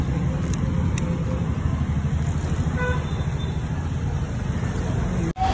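Stalled road traffic in Andheri, Mumbai, where vehicles have stood jammed for an hour: a steady, loud low rumble of idling engines, with a few short car horn toots above it.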